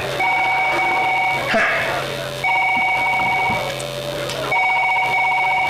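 A telephone ringing tone repeats in three long electronic bursts with short pauses between them, over a faint background murmur.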